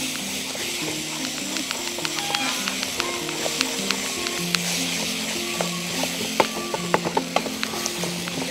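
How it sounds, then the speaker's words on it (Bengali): Rice is stirred through a sizzling cooking pan, giving a continuous soft fry with frequent sharp scraping ticks from the utensil, under a quiet musical backing. "এবার একটু করে মিশিয়ে নিতে হবে চালটাকে।"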